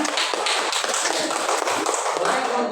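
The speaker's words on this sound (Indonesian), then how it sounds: "Boleh kasih tepuk tangan." Schoolchildren in an Indonesian elementary classroom clap for the winning quiz groups, producing quick, bright, ragged hand claps throughout with some voices mixed in.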